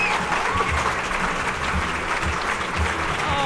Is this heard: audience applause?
yes